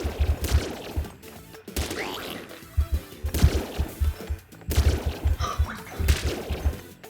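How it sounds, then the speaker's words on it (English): A laser weapon in the video game Nuclear Throne fires again and again amid busy combat, its repeated sharp bursts and impacts landing in a loud, uneven rhythm over low thumps. "I'll just keep firing my laser ineffectually at them"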